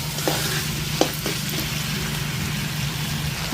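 Mutton sears in an open pan with no lid, giving a loud, dense, continuous sizzle. A few sharp scrapes come from stirring.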